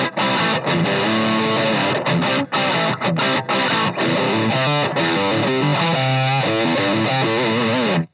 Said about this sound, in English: Nice, tight, spanky tone with that bridge pickup.